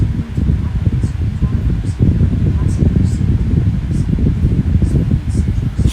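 An electric fan runs steadily at close range, a continuous airy whoosh with low rumble and rustling texture that stays even throughout, with no talk over it.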